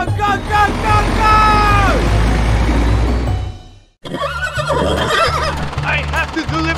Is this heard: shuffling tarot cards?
no